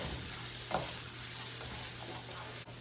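Soft scraping strokes of stirring rice for pulao in a pot over a steady low hiss of frying in ghee, with a few light clinks; no talking.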